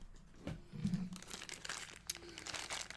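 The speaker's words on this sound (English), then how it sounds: "An empty plastic bag." An empty plastic bag pulled from a box of toys crinkles and rustles up close in short, irregular bursts, with no voices over it.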